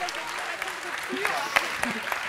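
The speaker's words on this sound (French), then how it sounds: "Applaudissons-la très fort." Applause from the audience for an award winner at a trophy ceremony, a steady moderate patter of clapping with a few sharper claps standing out and background voices mixed in.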